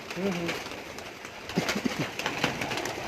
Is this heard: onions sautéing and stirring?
no